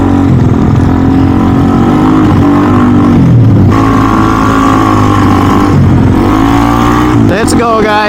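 A race car engine revs loudly during warm-up, holding a steady drone and climbing through several rises in pitch, close and dominant throughout.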